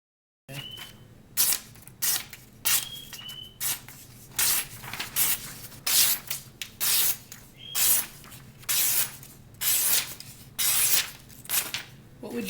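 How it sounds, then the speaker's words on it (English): A kitchen knife blade being stropped, a steady series of rhythmic swishing strokes, roughly one per second, brushing and rubbing close up with no voices. "Stropping your blade."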